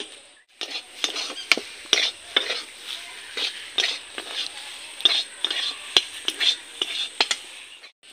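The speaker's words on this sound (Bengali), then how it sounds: "আর একটু এটাকে নেড়ে তারপরে নামাবো।" Vegetarian curry being stirred in a pot, a run of sharp spoon scrapes and knocks against the metal in an irregular rhythm over a faint sizzle, close by with some soft whispery voice in the background.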